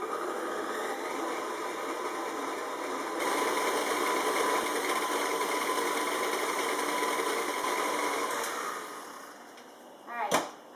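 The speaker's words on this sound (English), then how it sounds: "I mix it about on medium-low or speed number 4 if you have a KitchenAid." A KitchenAid stand mixer runs steadily on medium-low, speed 4, kneading wet whole wheat sourdough, a continuous close motor whir that grows slightly louder midway, then fades out, followed by a short clunk at the end.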